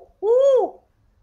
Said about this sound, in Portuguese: A coruja fazendo um barulho muito alto.